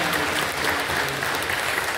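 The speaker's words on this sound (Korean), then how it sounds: "여러분들 뜨겁게 박수로 환영해 주시면 감사합니다." A church congregation claps warmly to welcome first-time visitors during a service, a dense, even burst of applause from many hands filling the room for a couple of seconds.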